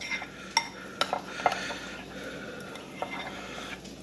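A spoon scrapes and clinks around a bowl as tuna patty mixture is mixed, producing a few light metallic knocks over a soft, steady rustle, fairly quiet and close.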